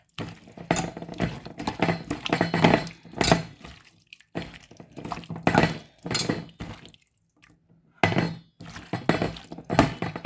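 Raw prawns being kneaded by hand in a bowl with onion, tomato, green chilli and curry leaves for a prawn curry: loud, close, wet squelching and squishing in bursts, broken by short silent pauses.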